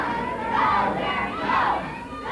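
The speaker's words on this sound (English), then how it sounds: "Terry go, is what they're hollering." A 1979 Knoxville wrestling crowd hollers and chants for Terry Gibbs, a dense roar of many voices swelling in two rhythmic waves, steady and fairly loud throughout.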